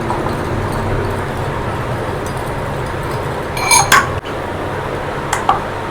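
Sugar is stirred into bread dough ingredients in a mixing bowl, with soft scraping and a few sharp clinks of a utensil against the bowl over a low, steady background.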